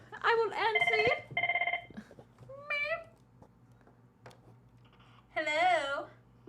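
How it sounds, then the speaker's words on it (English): An incoming call sets a telephone ringing in short tonal bursts: two clustered rings near the start and another toward the end, with quiet room sound between and voices nearby. "We're getting a phone call."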